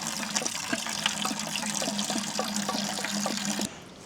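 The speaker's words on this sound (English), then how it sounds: "it's still draining a little bit, dripping." Fluid draining from a John Deere tractor during a winter repair, a continuous splashing trickle with a steady run of small drips, close and even, cutting off abruptly near the end.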